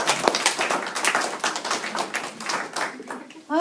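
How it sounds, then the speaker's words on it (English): An audience breaks into another round of applause, a bright, rapid patter of many hands that stays close and loud, then cuts off abruptly at the end. "Let's give them another round of applause."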